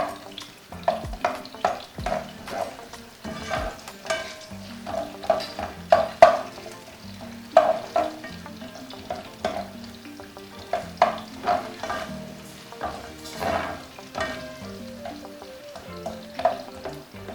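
Onions frying in hot oil until translucent for gizdodo, a loud close sizzle broken by repeated spoon scrapes and stirring clatter throughout, with no voices.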